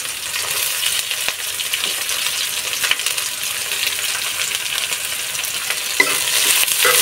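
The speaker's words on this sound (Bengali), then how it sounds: "ভালো করে বাদামি করে ভাজতে হবে।" Chopped onion and green chili fry in a pan with a steady sizzle, punctuated by scraping stirs and occasional light clinks of the spatula against the pan.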